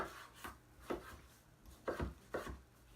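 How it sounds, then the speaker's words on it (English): Knife rough-chopping half an onion on a board, roughly five distinct chopping strokes in irregular clusters, close and fairly quiet, with no talk. "it's just a basic rough chop because we're going to be sauteing it in a cast iron pan"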